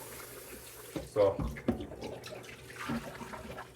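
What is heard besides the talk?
tap water running while rinsing chicken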